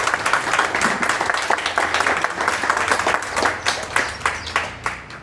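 Applause from a crowd at a Yoga Day gathering: steady, dense clapping that swells and continues for several seconds, with sharper individual claps standing out toward the end, fairly loud and close.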